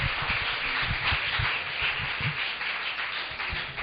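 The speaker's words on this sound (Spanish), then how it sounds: "Démosle un aplauso al Señor" Church congregation applauding during a Spanish-language service, a steady dense wash of many hands clapping at moderate loudness, continuous throughout with no break.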